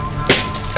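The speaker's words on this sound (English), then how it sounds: "for the 5th day in a row, we heard broken glass" Glass breaking somewhere upstairs in an abandoned city building at night: one sudden crash with a bright, jangling clink, fairly distant, over a low rumbling background.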